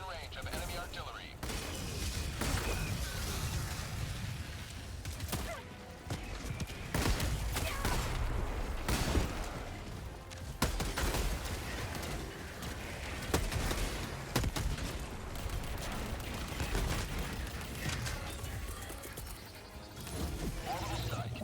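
Enemy artillery fire in a mech battle game, repeated heavy booms and crashing impacts in irregular bursts amid continuous rumbling combat noise, with voices talking over it.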